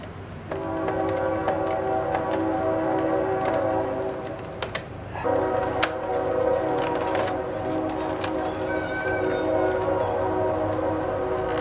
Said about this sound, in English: Hey, but there's the train.